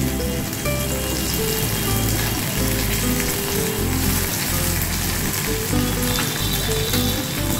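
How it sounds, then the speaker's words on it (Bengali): Small puti fish fry in very hot oil over high heat, giving a steady, loud, close sizzle that hisses on without a break. "আঁচটা বাড়িয়ে আবার ভেজে নিচ্ছি"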